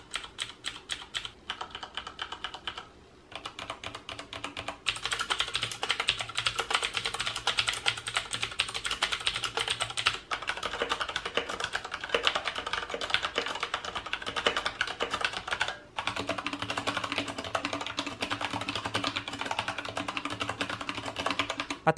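Basic mechanical keyboard with switches being typed on, a dense, continuous run of close, crisp key clicks and clacks with brief pauses, no voices.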